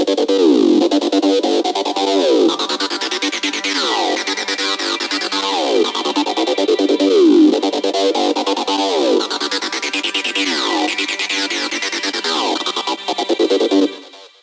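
A synth pad from an FL Studio hard trance template plays on its own, a bright, loud, sustained wash with sweeping filter swells that rise and fall in a repeating pattern, then cuts off at the end.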